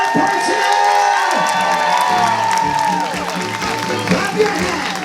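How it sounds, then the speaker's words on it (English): A crowd at a military appreciation gathering aboard the Carnival Mardi Gras cruise ship applauds and cheers for Coast Guard personnel, loud continuous clapping with whoops and shouts, and an announcer's amplified voice rings over the noise. "Let's hear it also for the people that keep us safe at sea, our Coast Guard personnel!"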